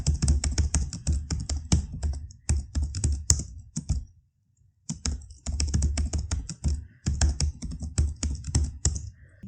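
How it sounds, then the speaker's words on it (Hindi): Fast, steady keystrokes of someone typing C code on a computer keyboard, in close, crisp bursts with a brief pause in the middle. "अब यहाँ पे सबसे पहले मैं हेडर फाइल एंटर करूँगा"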